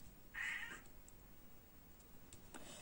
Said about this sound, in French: j'ai encore le chat qui est là